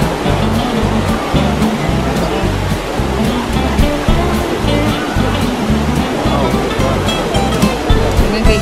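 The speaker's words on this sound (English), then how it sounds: "We are at the Trevi Fountain." Water from the Trevi Fountain in Rome rushes and splashes in a loud, steady roar, with a crowd of voices chattering underneath.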